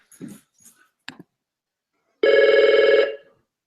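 A telephone rings once in a single sustained electronic ring after a few brief faint sounds, loud and close in an otherwise quiet room.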